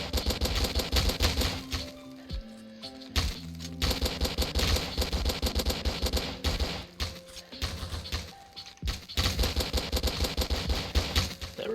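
Rapid, clattering Glock pistol fire in the online game Military Tycoon, loud and close, with dense bursts of shots running almost continuously and only a few brief pauses.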